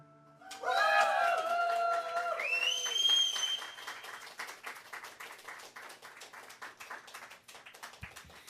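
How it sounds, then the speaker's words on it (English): Audience at a live music show in a venue called the Hive breaks into applause as a song's final sung notes fade, the dense clapping swelling loud for a few seconds, then thinning into scattered claps. "Thank you, everyone, for the great applause."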